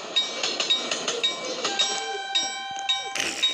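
A train in the Roblox video game rolls past with a steady rhythmic clatter of repeated beats and a high ringing bell-like tone over it, fairly close and continuous, ending in a brighter burst of noise.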